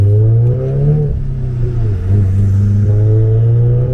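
A manual Audi S3 accelerates hard, engine note rising through the revs then dipping at gear changes before climbing again, a loud, close, continuous drone.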